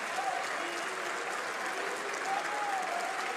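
Audience in a Turkish lecture hall applauding steadily, a dense even wash of clapping for the full stretch, moderately loud with a faint voice underneath.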